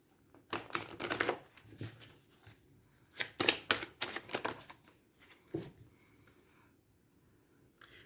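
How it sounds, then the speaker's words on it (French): Tarot cards are shuffled by hand in short, close bursts of riffling and flicking, two main rounds of crisp papery rustle separated by quiet pauses, with no talking. "J'ai envie de les remélanger un petit coup"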